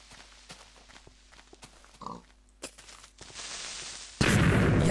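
A Minecraft creeper explodes with a sudden loud, broadband blast that holds to the end, following a stretch of quiet in-game footsteps and small clicks.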